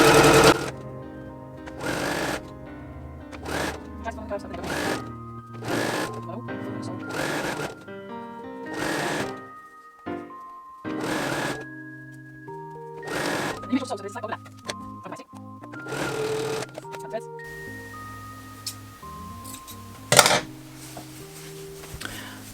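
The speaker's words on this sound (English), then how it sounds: "pop it into the machine. And then you stitch along the fold that you've folded up." A sewing machine stitches along folded woven fabric in repeated bursts of rapid mechanical chatter separated by short pauses, with a person talking between and over the runs.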